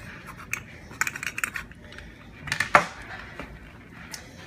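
Utensils cutting through small hamburger slider patties, light clinks and scrapes on a plate in short irregular bursts, close and fairly quiet.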